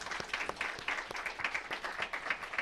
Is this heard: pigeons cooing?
no